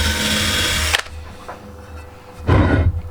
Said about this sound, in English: quickly give that a clean up with the wire brush on the drill